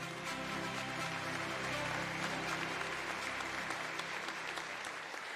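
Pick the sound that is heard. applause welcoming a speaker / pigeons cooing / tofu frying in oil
applause welcoming a speaker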